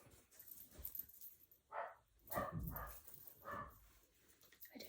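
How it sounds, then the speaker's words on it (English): A dog barks indoors a few separate times, somewhat distant and fairly faint, in a quiet room. "Oh, why is Jeff barking"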